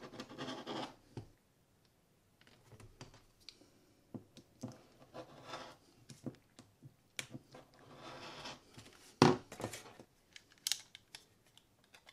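Leather being cut for a half-camera case, heard as a run of short, dry snips and scrapes in uneven bursts, close and fairly quiet, with one louder crisp cut near the end.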